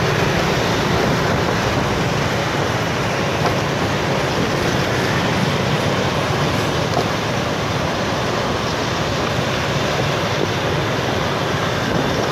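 A train rolls past on railway tracks in Tân Bình, Saigon, a steady, unbroken roar of wheels and rumble that holds at even loudness throughout, with no voices.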